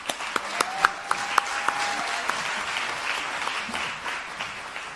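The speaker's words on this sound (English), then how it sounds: "Let's have another round of applause for our winner and also for our youth jury." Applause at a film festival awards ceremony, with a few crisp, close claps standing out over a broad crowd clapping that continues steadily and then softens slightly.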